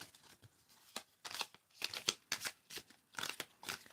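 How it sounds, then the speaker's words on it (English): Thin, full-size tarot cards are shuffled in a close, quiet series of soft riffling bursts and slides, repeating irregularly with no voices over them. "These cards are thin, and they are easy to shuffle. They slide past each other really well."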